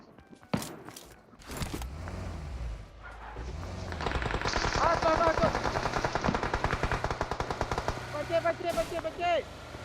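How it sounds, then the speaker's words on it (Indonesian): Rapid automatic gunfire in PUBG Mobile, with long rattling bursts near the listener. Occasional game sounds and footsteps mix in, and players talk briefly around the shooting. "Dia nembak loh."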